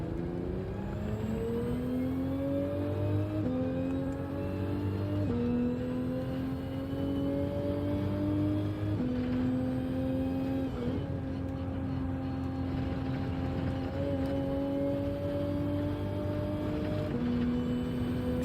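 Racing car engine in a circuit racing video game on the Dragon Trail Seaside track, revving high and loud throughout with repeated rising pitch sweeps through gear changes, steady and close with no talk.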